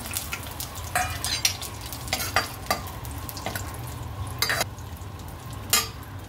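Almonds, cashews and raisins fry in hot ghee, a steady close sizzle broken by sharp clinks and scrapes of a spoon stirring against the pan.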